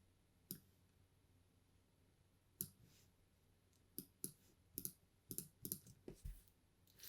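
Sharp, quiet mouse clicks sound in an irregular series, a few isolated ones early and then a quicker cluster of clicks, dry and close, with no other sound around them.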